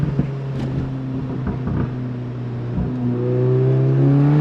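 A VW Golf R with a Remus exhaust under acceleration gives a deep, loud engine drone, roughly steady at first, then rising in pitch and growing louder toward the end, with no talking over it.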